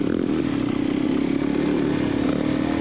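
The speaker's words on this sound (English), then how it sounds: "We got a KTM trying to pass us." KTM supermoto motorcycle racing on a kart track during a track day: a loud, continuous buzzing engine drone at steady high revs, close and harsh throughout with no talk.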